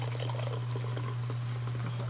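Water is poured into a vintage 1980s US MRE beef stew pouch, a soft steady splash over a loud, constant low electrical hum.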